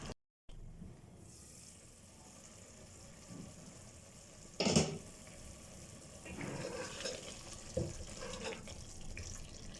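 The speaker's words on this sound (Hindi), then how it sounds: "अब इसमें 1/2 कप पानी ऐड कर देंगे।" Half a cup of water is poured into a pan of potato and egg curry, a soft, steady splashing wash with a louder gush midway, over faint kitchen background hiss.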